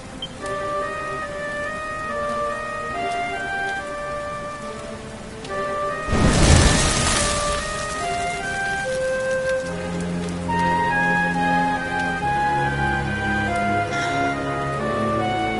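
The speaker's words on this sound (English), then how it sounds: "Looks like the rain's dying down." Rain falls steadily in Dragon Quest 11 under sustained melodic game music, with a louder burst of rushing rain or a thunder-like rumble midway before the downpour settles back into a continuous wash.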